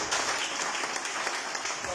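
A church congregation applauds during a Sunday worship service as the pastor comes up to preach, dense steady clapping filling the room at moderate level with some voices mixed in.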